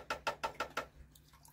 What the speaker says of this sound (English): with an appalling water leak